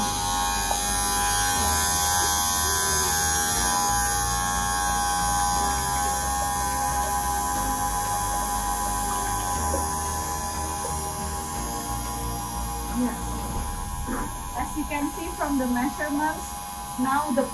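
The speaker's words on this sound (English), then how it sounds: "Now the pump has turned on at full capacity" A pump in a laboratory tank control system runs at full capacity, giving a steady electric buzz with a mains-like hum throughout, and voices talk over it near the end.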